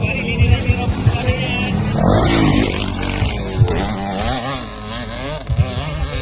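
Small motorcycle engines, bikes larger than 85cc, rev and buzz loudly close by with rising and falling pitch as they pass, while people talk over the noise.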